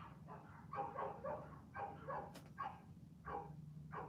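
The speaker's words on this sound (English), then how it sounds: "give me 1 second for my family to go inside and the dog to stop going barking" A household dog barks repeatedly, about eight muffled, moderately distant barks in an uneven rhythm over a low steady hum.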